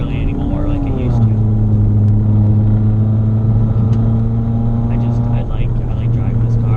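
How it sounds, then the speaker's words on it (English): Subcompact Ford car driving with a steady engine drone and low rumble throughout, a shift in pitch partway through, with muffled voices inside the cabin. "I like driving this car around."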